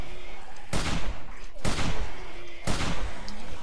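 A hunting rifle fired in 7 Days to Die, three loud, close single shots spaced about a second apart over a steady background rumble.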